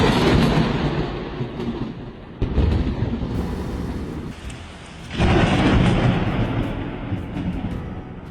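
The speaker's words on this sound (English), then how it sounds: "Lightning slammed into the tree like a bomb, sending shock waves through the air." Lightning strikes a tree during a storm: heavy thunder cracks and rumbles in loud bursts over steady rain, with a sharp jolt midway and a second powerful roll of thunder near the end.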